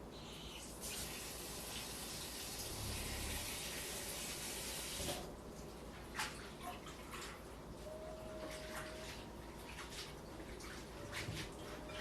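Tap water runs steadily into a kitchen sink while salted daikon and carrot are drained and rinsed for pickling, a continuous gushing stream with a few soft clinks and knocks toward the end.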